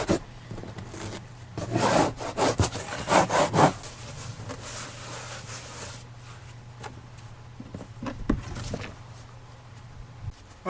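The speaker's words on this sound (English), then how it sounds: "Just scratching it to get a little bit of it up so I can get a hold of it." Old headliner material is scraped off the roof of a Nissan Frontier in repeated short, rough scratching strokes, with bursts of quick rasping followed by quieter pauses and a few sporadic scrapes, close by and without talking.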